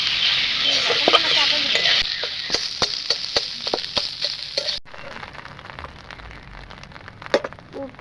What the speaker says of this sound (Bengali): অল্প তেলেতে সারবো তাই এখানে একটা ডিম ফাটিয়ে আমি দিয়ে দেব